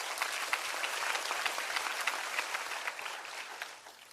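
Audience at a DeKalb County Fire Rescue graduation ceremony claps in a sustained round of applause, moderately distant and even, tapering slightly toward the end.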